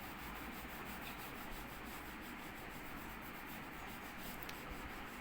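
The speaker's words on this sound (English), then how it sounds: "I'm darkening by this pencil brown color here" A brown-colored pencil shades on paper during a technical orthographic drawing, a faint, close, steady rubbing with quick rhythmic back-and-forth strokes, with no speech.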